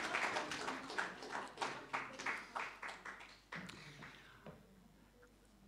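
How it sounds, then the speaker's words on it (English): An indoor audience claps for Robin at a Universal Peace Federation gathering, a steady round of applause that thins out and fades toward the end. "One more round of applause for Robin."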